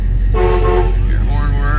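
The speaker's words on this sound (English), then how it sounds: "Your horn works." A 1966 Chevrolet Nova Super Sport, a factory 4-speed classic muscle car, sounds its horn in two close, loud, blaring honks. A second honk follows a brief gap.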